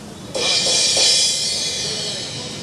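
A thin Zildjian crash cymbal struck once, a bright, splashy wash that blooms quickly and rings on, fading slowly with a few soft follow-up taps.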